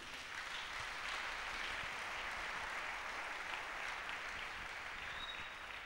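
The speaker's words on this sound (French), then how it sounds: "Acclamons le Seigneur." Church congregation applauding steadily throughout, a dense, even wash of clapping from many hands without breaks.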